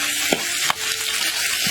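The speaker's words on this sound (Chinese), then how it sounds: "辣椒，炒肉片。" Sliced pork with chili stir-frying in a wok over hot oil, a loud steady sizzle with a few scrapes of the spatula, no voices.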